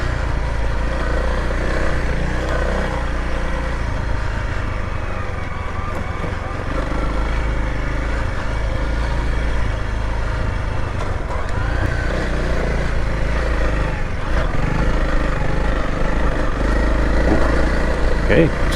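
A Honda CRF300L dual-sport motorcycle runs steadily on a backcountry trail in southwest Utah, its engine a constant low drone under wind rush and a rider's talk, with small rises in throttle over the rough ground.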